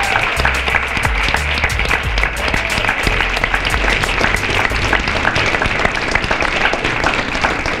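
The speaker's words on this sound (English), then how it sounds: "And I just wanna have a 30-second rowdy applause for Lori and the League." Loud, sustained applause from an audience at an environmental summit, dense clapping with some individual claps standing out, continuing unbroken for the whole stretch with no talk.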